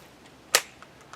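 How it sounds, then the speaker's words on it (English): A single sharp metallic click from the trigger of an Intratec Tec-9 pistol that misfires without firing, heard once, close and crisp against a quiet room, with faint small ticks after it. "Click, no bang."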